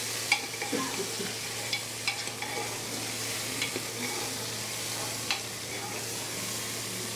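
Mutton frying and being stirred in a large dhaba pan, a steady loud sizzle with scattered scraping clicks of the ladle and a low constant hum beneath, close by.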